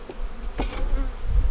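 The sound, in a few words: honey bees buzzing around hive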